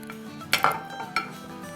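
A spoon scrapes and clinks against a metal pot while mixing chicken pasanda with lemon juice, fried onions and garam masala, giving a few sharp knocks amid soft stirring, close and alone.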